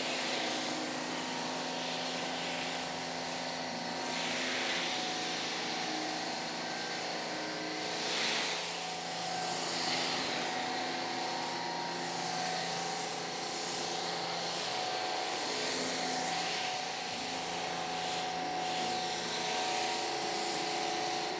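A pressure washer hisses steadily as it blasts foam off a car at a hybrid car wash, a continuous broadband spray with a low machine drone beneath, fairly distant and unbroken.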